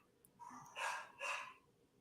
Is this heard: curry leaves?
no